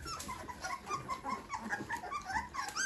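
Newborn puppies, one of a litter of eleven, whimper and grumble in a busy overlapping stream of small yips and whines, close and continuous throughout, with no talk.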